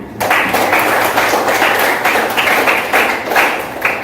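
Students in a classroom give quick, rhythmic clapping for a classmate's answer, close and fairly loud, with regular bursts of hand claps and no talk over it.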